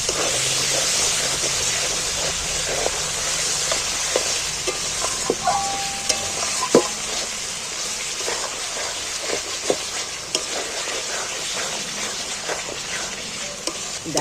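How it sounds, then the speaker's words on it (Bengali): Sour yogurt and onions are sautéed in a pan for a chicken gravy, giving a steady frying hiss broken by scattered spatula scrapes and clinks, with no one speaking. "এই টক দইটা আমি এই পেঁয়াজের মধ্যে দিয়ে দিচ্ছি এবার একটু আমি ভালো করে কষিয়ে নিই"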